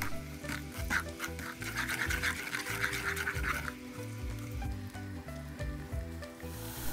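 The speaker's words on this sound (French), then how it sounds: "on va faire revenir la ciboulette et le sel dans l'huile" Asian chives and salt sizzling in hot oil in a pan for scallion pancakes, a close, steady crackling fry with stirring scrapes and bubbling throughout.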